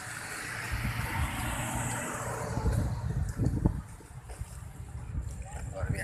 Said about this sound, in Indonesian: Nah, ini mobil-mobil Malaysia.